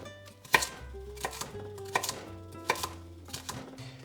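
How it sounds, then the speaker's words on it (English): A knife chops leek on a cutting board in a series of crisp, uneven strikes, close and fairly quiet, with no talking. "So I'll carry on chopping."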